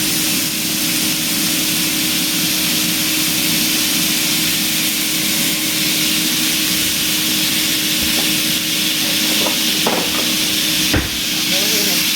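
Steak sizzles steadily in a buttered skillet for a homemade pho, a loud, even frying hiss throughout, with a few utensil clicks near the end.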